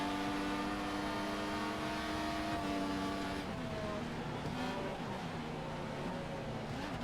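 A Formula 1 race car in the F1 2014 video game passes by, its high-pitched engine whine sustained and steady, then shifting lower in pitch as it pulls away.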